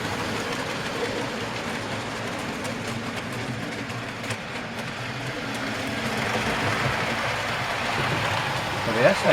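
Model railway train hauling Esso kit tanker wagons around a loft layout, a steady rolling rumble with faint rhythmic wheel clicks, close and continuous, with someone talking over it.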